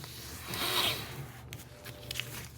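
Paper crinkles and rubs as a doily page pocket is folded, a soft close swish swelling and fading, followed by lighter scratchy handling sounds.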